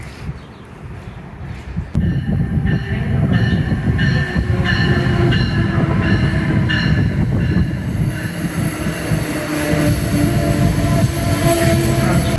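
A passenger train rumbles along with a steady low roar, rhythmic wheel clatter and occasional metallic squeals, loud and close from on board in a regular coach class seat.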